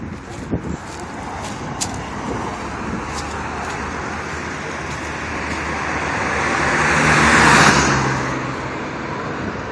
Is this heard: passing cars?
yes